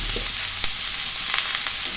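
A ground mustard paste mixed with turmeric fries in a pan, making a loud, dense, continuous sizzle close by with a few soft stirring knocks.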